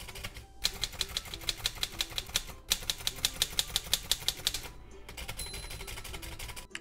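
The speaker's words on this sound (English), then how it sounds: "Check the keys, check the space bar." A manual typewriter with a repaired carriage string is tested, its keys struck in a rapid, even series of sharp clacks broken by short pauses, close and crisp, with a single spoken word.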